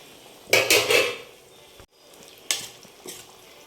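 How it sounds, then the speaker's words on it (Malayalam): Soya chunks are tipped into roast masala in a pan and stirred, giving two bursts of scraping and clattering against the pan over a faint, steady sizzle. "ഇനി നമ്മുടെ സോയ ചങ്ക്സ് ഇതിനകത്ത് ഇട്ട് കൊടുക്കാവേ."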